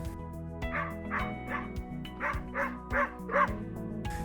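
A dog in a sit and impulse-control training session gives a run of about seven short yips and whiny barks in quick succession, close and fairly loud, with no talking.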